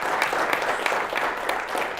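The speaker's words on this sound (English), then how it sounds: "let's give her a round of applause" An audience at a podcasting talk gives a round of applause, dense steady clapping from many hands filling the room for a couple of seconds without talk.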